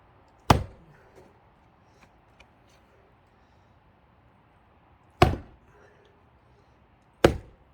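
An axe splits thick, springy firewood logs outdoors in three sharp, loud strikes spaced several seconds apart, each a crisp crack with a short decay, with quiet faint handling sounds in between.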